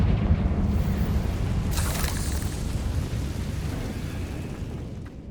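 A Confringo fire spell bursts in Hogwarts Legacy with a loud, rumbling explosion that fades out over several seconds, with a brief crackling flare near the start.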